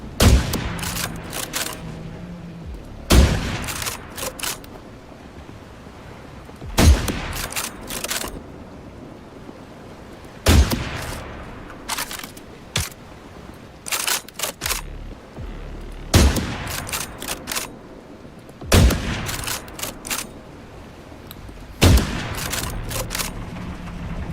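Sniper rifle shots fired at a shark in The Last Caretaker video game: about eight loud, sharp cracks spaced a few seconds apart, each followed by a ringing tail, alone without talk.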